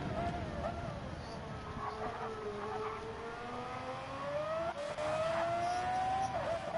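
Race cars in an F3500 racing game, engines droning steadily with shifting pitch as a Mercedes gets loose out of a corner, tires squealing and skidding, loud and continuous.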